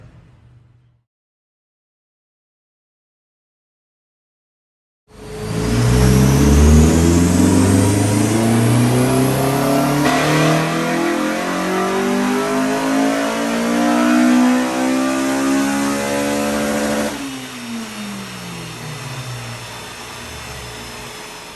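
A Honda Civic EP3 Type R engine runs a full power pull on a rolling road dyno. After about five seconds of silence it bursts in loud and close, climbs steadily through the revs, then drops away as the throttle lifts.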